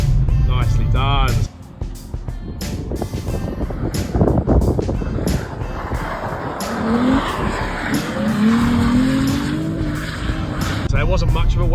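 A Nissan 350Z drifts on a track, its engine roaring under throttle while the tires squeal in long rising screeches, and an instructor and driver talk over the car.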